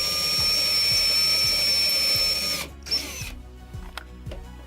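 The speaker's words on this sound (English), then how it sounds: "Now we'll drill the cross hole." A power drill boring a cross hole for an UltraLatch door latch runs loud and steady for about two and a half seconds, then stops, leaving faint handling clatter.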